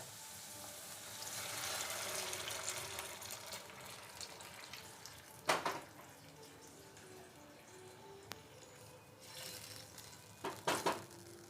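Hot water poured into a pan of upma on the stove, giving a hiss and sizzle, followed by spoon stirring with a few sharp scrapes and clinks against the pan.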